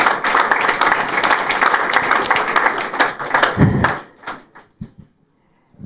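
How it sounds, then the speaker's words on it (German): A church congregation at a Sunday service claps together loudly for about four seconds, then the clapping thins out into a few scattered final claps before silence. "Ihr dürft euch noch einen Applaus geben."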